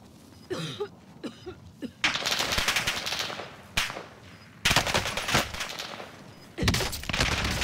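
Marco 5 SMG gunfire in Warzone, first a few separate shots, then three long, loud bursts of very fast automatic fire separated by short pauses.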